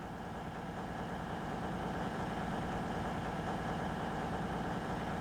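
A diesel train engine idles in Train Sim World 6 on the Riviera Line, holding a steady, fairly high tick-over. The low mechanical drone and vibration stay constant and fill the whole stretch with no talk.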